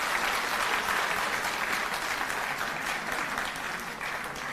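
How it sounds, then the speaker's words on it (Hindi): A crowd at a Women's Day event breaks into loud applause for a twelfth-grade schoolgirl, a thick, steady wash of clapping that eases slightly toward the end. "एक बार जोरदार तालियां बजा दीजिए इसके लिए।"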